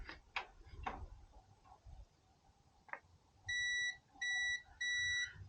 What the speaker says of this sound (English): Just want to do a quick continuity test on this.